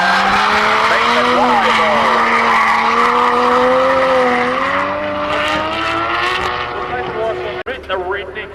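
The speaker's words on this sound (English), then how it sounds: "It's the O2 Autosports R32 Skyline running the RB26 under the bonnet" An O2 Autosports R32 Skyline GT-R with an RB26 engine and RB25 gearbox races hard, its loud engine droning steadily and rising and falling in pitch with tire squeal, under continuous commentary.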